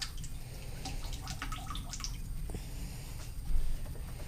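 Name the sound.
pouring ceramic glaze into a pot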